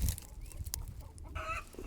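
Backyard chickens in a home run clucking in short, scattered bursts, a few nearby calls rising briefly over low outdoor background noise with no talking.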